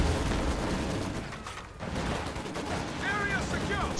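Maxim machine gun firing in a World War II strategy game, a steady wash of battlefield gunfire and distant shots filling the scene with no pauses, continuous and fairly loud throughout.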